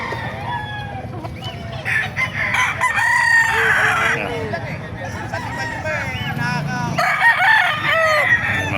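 Roosters crow loudly and close by at a chicken market in Bocaue, Bulacan, Philippines, several long calls overlapping amid clucking, with people talking underneath.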